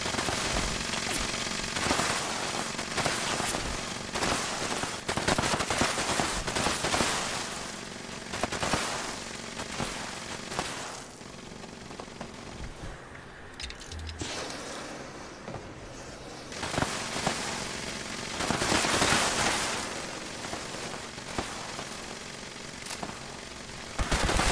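Automatic gunfire from another player in Fallout 76, repeated bursts of rattling shots at moderate distance, rising and falling in intensity across the stretch, mostly alone without talk.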